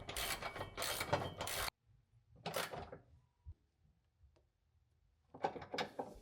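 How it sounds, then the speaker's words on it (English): A hand ratchet with a 14mm socket on an extension bar tightens a bolt through a skid plate opening on a Honda Pilot TrailSport. Short bursts of close clicking are separated by quiet gaps. "put a 14mm socket on the bolt first, put the extension bar through the opening on the skid plate, and tighten the bolt using the ratchet"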